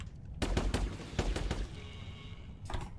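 Rapid gunfire from the co-op shooter game The Anacrusis, several loud sharp shots in quick bursts over the first half, then a lull with a faint tone before one more burst near the end.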